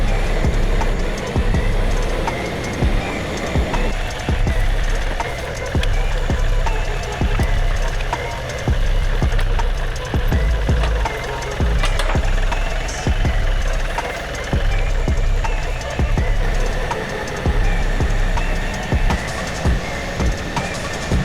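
A tractor engine runs loudly and steadily nearby, a dense rumbling drone with a rough, knocking pulse throughout. It stays unbroken for the whole stretch.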